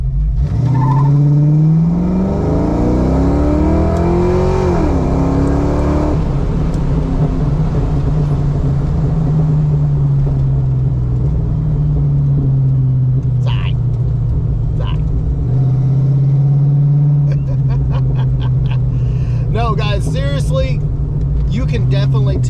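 A Fox body Mustang with a complete GT40 top end, E303 cam and AOD automatic transmission, its V8 engine revving and accelerating with a deep, steady rumble that rises in pitch, loud and close, with brief voices near the end.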